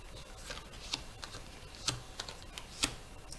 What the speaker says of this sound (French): Je coupe. 13 cartes.